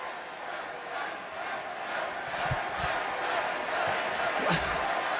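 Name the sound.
wrestling crowd chanting for Edge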